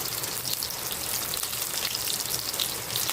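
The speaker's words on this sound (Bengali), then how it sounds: "এখন দিয়ে দেব পেঁয়াজ কুচি" Chopped onion and chilli frying in hot oil for an okra stir-fry, a dense, even hiss of sizzling close by, steady throughout and without speech.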